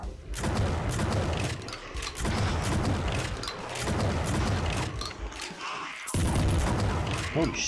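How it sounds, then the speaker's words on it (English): Shotgun blasts from the video game Project Warlock, heavy booming shots fired roughly every one to two seconds with mechanical pumping between them, loud and close over busy game noise. "the shotgun is kind of cool"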